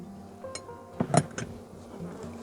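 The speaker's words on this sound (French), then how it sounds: "c'est des abeilles qui vivent vraiment dans la nature" Wild honeybees buzzing at close range, with a few louder passes swelling and fading over a low steady background hum.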